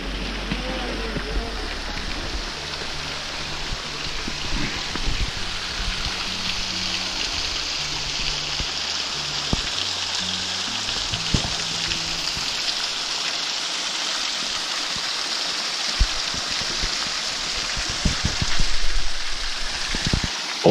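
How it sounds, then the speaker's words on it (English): Small waterfall at Friemersheim, a steady broad rush of falling water filling the scene at moderate level throughout, with low rumbling and a few handling bumps near the start. "It sure is a spectacular little waterfall here."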